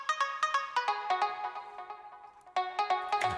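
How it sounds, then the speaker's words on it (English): A Nexus synth preset normally built as an arpeggio, played here with the arpeggiator off: bright plucked tones in quick repeated rhythmic hits, a short pause, then another run of notes, with no voices. "It's actually an arpeggiated sound, but I switch off the arpeggiator and sounds like this."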